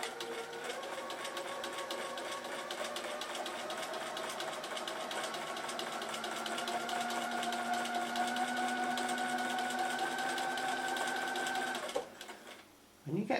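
A sewing machine stitches quilt fabric squares into half-square triangles with a quarter-inch foot, its steady close whirring running continuously before stopping near the end.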